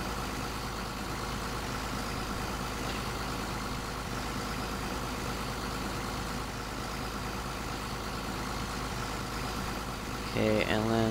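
A tractor in Farming Simulator 17 idles with a steady, continuous engine drone across the whole stretch, a clunk of machinery sounding near the end.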